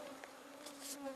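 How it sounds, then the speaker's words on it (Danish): Swarms of mosquitoes whine close by on a grueling multi-day trek through wild terrain, a thin steady insect drone with a few brief swells, heard alone without speech. "Og myggen, de er milliarder."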